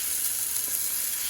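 Bacon fries in a pan with a dense, even sizzle that stays close and steady throughout, alone without any voices.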